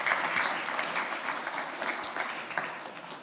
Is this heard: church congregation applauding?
yes